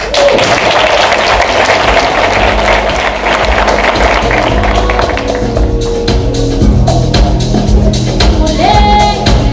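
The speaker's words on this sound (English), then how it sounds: "we're going to welcome Mr. Temba with a round of applause" Loud audience applause and some cheering welcome a guest onto the stage at a corporate digital technology showcase, then thin out as tonal music rises and takes over.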